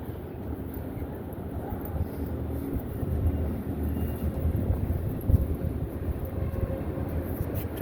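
Wind blowing outdoors on the Las Vegas Strip, a steady, loud buffeting rumble across the microphone with continuous low gusts and faint distant city noise beneath, no talking.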